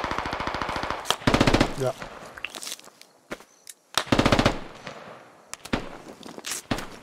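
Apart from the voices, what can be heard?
gunfire in the video game Squad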